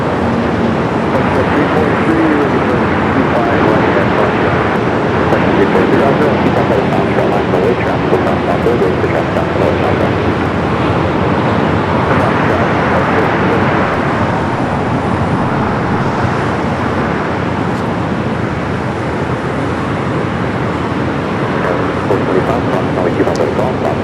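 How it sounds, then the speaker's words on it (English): A Japan Airlines jet arriving at LAX from Tokyo Narita, heard as a loud, continuous broadband roar held for the whole stretch, with wind noise and a voice faintly under it. "Japan Airlines flight 62 coming up from Tokyo Narita"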